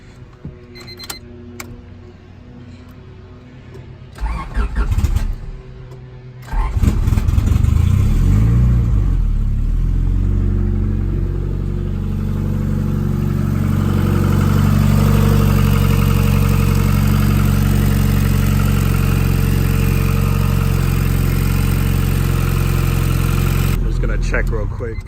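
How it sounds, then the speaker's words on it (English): A car engine cranks and catches after a few seconds of quiet handling noises, then settles into a steady, loud idle that runs for about twenty seconds, with a brief clatter near the end, just after a new gasket has been fitted. "So I'm gonna start the car and see if it leaks"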